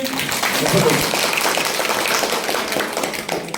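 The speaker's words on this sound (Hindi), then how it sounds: "परमेश्वर को ताली बजा के धन्यवाद देंगे" A church congregation claps steadily to thank God at a healing gathering, a dense continuous patter filling the room, loud and sustained, with a voice talking over it.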